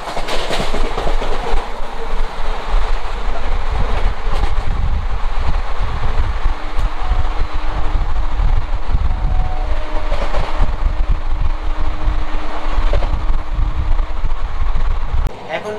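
The 12333 Vibhuti Express runs at speed with a loud, close roar, a steady rumble and rattling carriage noise, with clicks of track joints throughout and a faint tonal hum midway.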